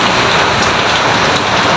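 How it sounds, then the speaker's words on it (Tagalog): Heavy rain from an approaching typhoon pours down in a dense, loud, unbroken hiss close by, with no voices over it. "kanina pa malakas ang ulan"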